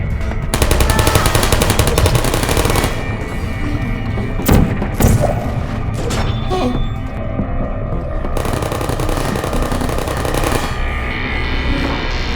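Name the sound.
turret ambush gunfire in Portal video game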